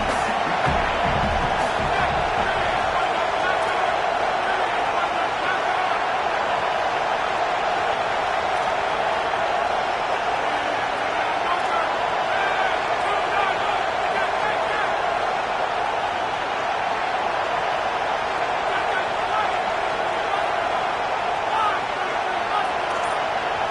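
At a TCU Horned Frogs college football game, a packed stadium crowd roars in a loud, unbroken wash of cheering that lasts the whole stretch, with a commentator talking over it.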